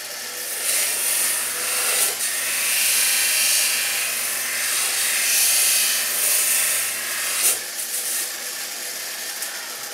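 An industrial deburring tool grinds old nickel off the metal parts of a front-mount phonograph, a continuous harsh, hissing abrasive whir that swells and eases as the tool is pressed and moved, loud and near with no talk.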